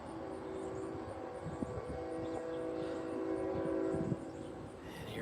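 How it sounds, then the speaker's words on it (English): A Norfolk Southern freight train led by a GE Evolution-series locomotive rolls past a trackside spot in Dalton, Georgia, with a continuous heavy rumble and clatter. A sustained horn tone rides over the passing cars. "And here comes our NS train."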